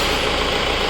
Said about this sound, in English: we are going to start the vehicle right now and leave the engine for just 4 to 5 minutes